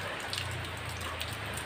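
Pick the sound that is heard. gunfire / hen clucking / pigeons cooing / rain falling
rain falling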